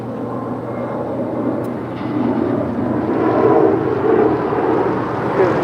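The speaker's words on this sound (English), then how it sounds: "This is Spirit Airlines Flight 598 departing to Austin. It's an Airbus A320neo." A Spirit Airlines Airbus A320neo departs LAX for Austin. Its engines build from a low roar to a louder, broad rushing swell as it rolls away.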